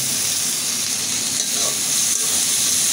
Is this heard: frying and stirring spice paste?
yes